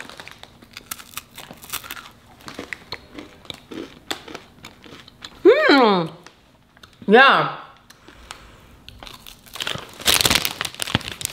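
Crunch chocolate bar wrapper crinkles and rustles with scattered crisp clicks of handling, broken by two short spoken exclamations and a burst of louder crumpling near the end.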